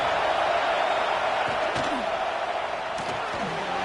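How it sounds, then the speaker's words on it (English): Football stadium crowd at a Texas Longhorns game roars steadily during a defensive red-zone stand in the 4th quarter, a dense sustained wash of noise with a few faint thuds and calls underneath. "here comes the noise. This crowd is trying to inspire this defense to make a big red zone stop."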